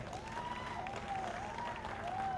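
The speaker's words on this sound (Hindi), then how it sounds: "एक बार इन सब के लिए जोरदार तालियां हो जाए." An audience at a TV show launch event applauds the star cast in a dense, steady crowd clapping with a wavering tone running through it, moderately loud.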